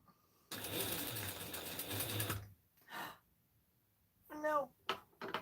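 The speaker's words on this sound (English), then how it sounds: "I'm just going to sew this at 1/2 inch." A sewing machine runs a steady two-second burst of stitching along a half-inch fabric seam while sewing a McCall's 7974 pattern, followed by brief handling noises and a short spoken phrase.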